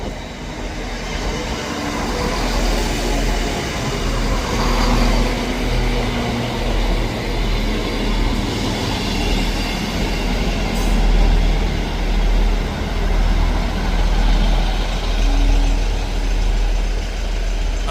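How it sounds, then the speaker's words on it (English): ScotRail train from Dundee, led by locomotive 17402, pulls into Ladybank station with a steady loud rumble of engine and rolling wagons, a brief wheel squeal partway through, no voices. "Arriving in now is the 1411 ScotRail service from Dundee to Edinburgh Waverley."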